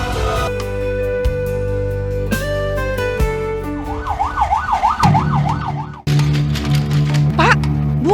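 An ambulance siren wails in a residential neighbourhood, its rising and falling tone cutting through layered background music and ambient noise; no talk.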